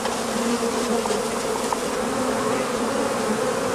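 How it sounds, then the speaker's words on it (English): Honeybees in shipped package boxes, a dense continuous buzzing hum, close and steady with no talk. "There's very few dead bees, so they've travelled very well."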